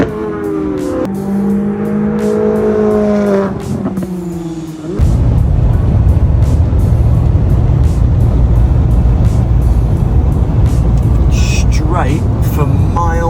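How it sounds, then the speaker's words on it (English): Cars race around the privately owned Spring Mountain Race Circuit, heard as a loud roar of engines with revving and passing sweeps that take over after a stretch of nearby talk at the start. "We're just over here gonna watch some cars go around."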